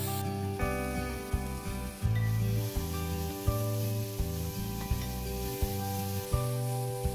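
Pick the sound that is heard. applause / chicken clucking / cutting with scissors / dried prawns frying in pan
dried prawns frying in pan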